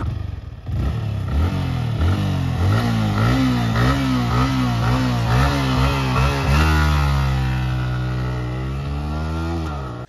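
A 150cc Yamaha R15 V4 M motorcycle revs up close by, its engine climbing through repeated rising and falling throttle blips before settling into a steady, loud drone.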